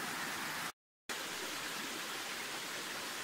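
A creek with a fallen tree in it flows with a steady, close, hissing rush that breaks off abruptly for a moment of silence before resuming just as evenly.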